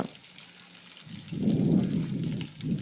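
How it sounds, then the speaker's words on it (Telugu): Garlic and mustard seeds frying in hot oil for tomato chutney, a quiet hiss that swells into a dense, crackling sizzle after about a second, heard close and with no speech. "తెల్లగడ్డల్ని అందులో నూనెలో వేసి తర్వాత ఆవాలు వేసుకోవాలి"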